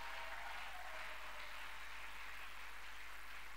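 A church congregation applauding the Saviour during a Paschal seminar, a steady wash of clapping at moderate distance with no voices standing out.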